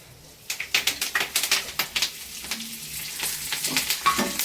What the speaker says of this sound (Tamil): இந்த கருவேப்பிலை எல்லாம் மொறுன்னு வறுக்கிற மாதிரி வறுத்துக்கலாம்ப்பா